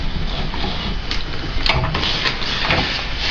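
A professional manual ravioli machine is hand-cranked, giving a continuous grinding, rumbling mechanical whir with a few sharper clicks and knocks as the crank turns, close by and without talk.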